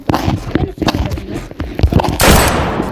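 Rapid bursts of video game gunfire, loud and close, firing in quick uneven volleys with a heavier blast near the end.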